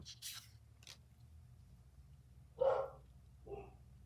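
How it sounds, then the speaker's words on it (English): A dog barks at a passing delivery truck, two short muffled barks from another room in a quiet house, preceded by a few soft scraping sounds. "Sorry, my dog is..."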